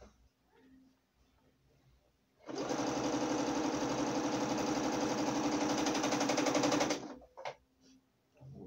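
Sewing machine stitching a patchwork cotton tea towel, a loud close rapid mechanical whir running steadily for about four seconds, then stopping, with quiet handling noises around it.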